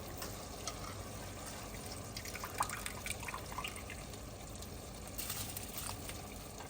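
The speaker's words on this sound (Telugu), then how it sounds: "దాంట్లో బిర్యానీకి ఉడకదాంట్లో చూడండి నీళ్ళు తీసేస్తున్నాం." Water being poured off a pot of biryani rice part-boiled to about 70 percent at home, heard as a steady trickling, dripping stream close by, moderately quiet with a few small splashes.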